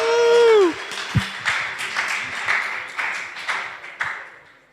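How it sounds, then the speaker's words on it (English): A short ringing tone fades, then an audience breaks into scattered clapping that slowly thins out. "Give him a warm round of applause."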